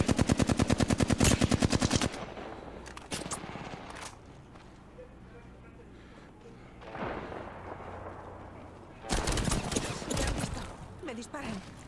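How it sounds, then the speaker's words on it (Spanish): Enemy gunfire in Apex Legends: a loud rapid automatic burst at the start, scattered shots and impacts through a quieter stretch, then another intense close burst near the end, with in-game noise between. "Me disparan."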